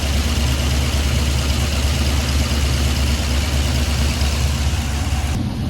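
A car engine idles with a steady, even low rumble that holds at a constant level, close up and alone with no talk. The engine has slight crankcase blow-by and is fitted with boost.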